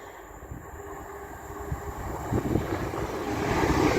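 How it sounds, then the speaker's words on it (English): A TransPennine Express passenger train from Newcastle to Liverpool Lime Street passes at Castleton, a low rumbling roar that swells steadily louder over four seconds as it draws near, with no voices. "here's another Transpennine Express from Newcastle to Liverpool Lime Street"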